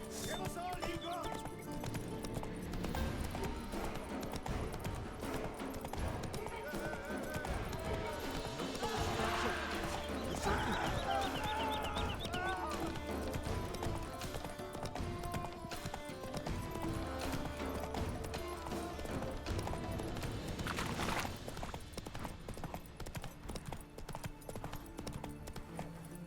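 Roach the horse gallops in The Witcher 3 with quick, rhythmic hoof clip-clops under dense game music and effects, and a voice speaks over the top.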